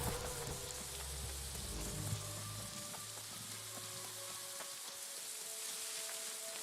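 Soft, steady rain in the video game New World patters and hisses, faint and continuous, with a low rumble underneath early on.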